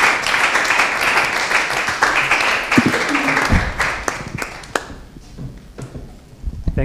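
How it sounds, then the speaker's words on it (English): An audience claps for speakers at the close of a science panel, a dense broad patter of applause that thins out with a few separate claps near the end. "If we give a very great applause to our speakers."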